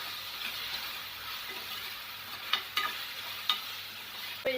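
Soaked lentils and chopped Malabar cucumber are stirred in a pan over a soft steady sizzle. A few sharp spoon taps and scrapes ring out near the end, with no talking.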